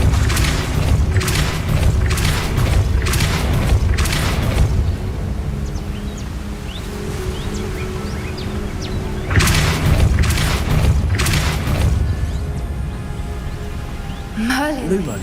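In Hogwarts Legacy, a Repulso spell lands with heavy booming impacts in rapid clusters over a continuous game soundscape, and a voice is heard in the game.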